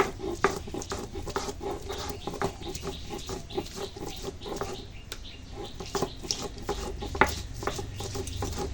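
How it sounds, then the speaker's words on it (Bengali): Ginger and garlic being ground into a paste by hand in a kitchen, a steady close scraping and grinding with repeated rhythmic strokes and occasional knocks. "এখন আদা রসুন বেটে নেব"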